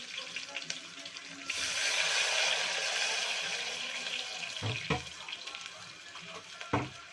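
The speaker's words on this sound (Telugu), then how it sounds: "సో మొత్తం 3 గ్లాసెస్ వేసుకుంటున్నా వాటర్ నేను" Water poured into a pot of frying cashews and curry leaves while making Ven Pongal, a loud steady rushing splash and sizzle lasting several seconds, then fading with a few clinks of the pot.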